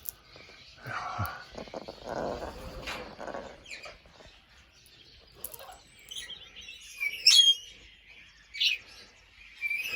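Pet parrots at home calling with squawks, chirps and a couple of shrill whistles, scattered and irregular, fairly close, with some rustling and a brief faint voice in the background.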